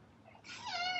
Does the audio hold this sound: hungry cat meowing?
yes